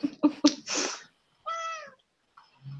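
A cat meows several times near the microphone, a quick cluster of short cries followed by a longer, drawn-out meow and a softer trailing call.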